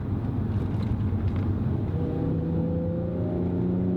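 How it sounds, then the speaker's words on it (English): Inside an Infiniti G35 Coupe, the engine drones steadily at higher RPMs, a low continuous rumble whose pitch climbs and holds as the revs rise, with no talk over it. "So it has a very small amount of engine noise inside the car"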